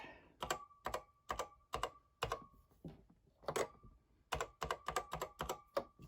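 Keys on a repaired Mac Plus keyboard being tested with bursts of crisp, close clicks in quick rhythmic runs, a short pause midway, then a faster flurry of keystrokes; no voices.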